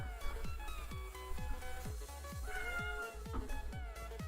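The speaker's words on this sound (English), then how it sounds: "The cats are getting into things already." Cats in a modded Minecraft game meow repeatedly in a quick, regular series of short rising calls, with several overlapping, set against a soft background of in-game tones.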